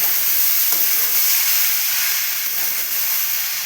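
Steady sizzling and hiss of moong dal and spices frying in a pan, with a few faint scraping stirs, continuous and fairly loud with no talking.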